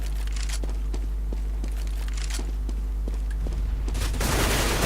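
Rapid gunfire and individual shots in Counter-Strike: Global Offensive, a burst of sharp cracks over steady game hum, then a dense loud rattle building at the end.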